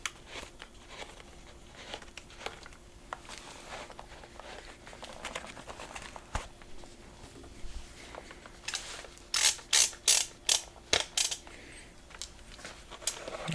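Ratchet dial on a Kiwi Design head strap for a Meta Quest 2 headset being loosened, a quick run of sharp plastic clicks near the end after quieter handling rustle, close and fairly faint.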